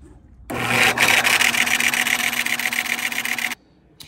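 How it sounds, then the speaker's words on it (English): A belt sander with a 36-grit belt grinds down a Powermaster starter spacer ring, a loud, steady abrasive roar that starts abruptly, runs about three seconds close up, then cuts off. "I will hold the piece while the belt sander's going."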